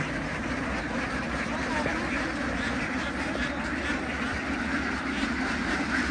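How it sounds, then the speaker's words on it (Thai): A large flock of young laying ducks at a Thai duck farm quacks in a dense, continuous din close by, with the noise of many birds blending into one steady wall of sound. "นี่คือเป็ดที่เรา จะนำส่งลูกค้านะครับ"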